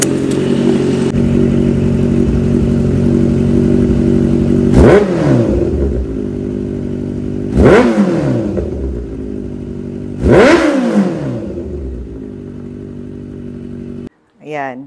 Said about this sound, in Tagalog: Maingay na yung ating motor.